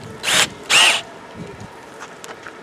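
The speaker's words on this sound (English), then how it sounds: "he's going to start sanding it down with this 500 grit sandpaper, and just attach that into your drill" Two short bursts of a power drill fitted with 500-grit sandpaper whirring, close and loud, sanding a vehicle headlight, followed by quieter background noise with faint scraping.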